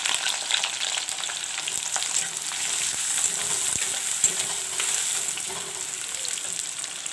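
Sliced onions and bay leaves fry steadily in mustard oil, giving a continuous close hiss with faint crackles and occasional light stirring taps, no talking.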